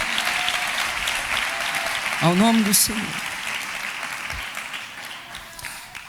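A church congregation claps together in steady, sustained applause that runs throughout, with a voice speaking briefly over it midway.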